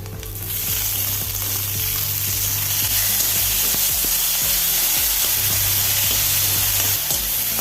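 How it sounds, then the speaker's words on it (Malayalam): Chopped onion, garlic and tomato fry loudly in a kadai, giving a steady, dense sizzle with rhythmic spatula scrapes throughout, close and continuous with no talking. "ഇനി സവോള അരിഞ്ഞതും വെളുത്തുള്ളിയും കൂടി ഇട്ട് കൊടുക്കാം ഒന്ന് വാടി വരുമ്പം തക്കാളി ചേർത്ത് കൊടുക്കാം"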